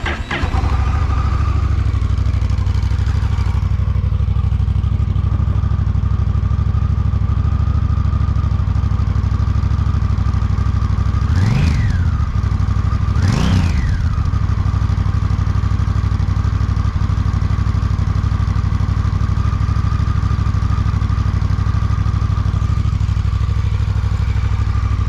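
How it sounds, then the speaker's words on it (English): A Honda motorcycle engine, either a Rebel 1100, Shadow 750 or Fury 1300, idles loud and close with a steady low rumble, blipped twice in quick revs midway before settling back to idle. "Let's start this bike up."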